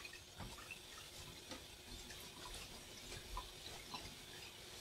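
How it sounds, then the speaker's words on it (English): Tap water runs into the condenser of a simple laboratory distillation setup, a faint, steady trickle with small splashes throughout. "So now the water goes in, it flows much more nicely."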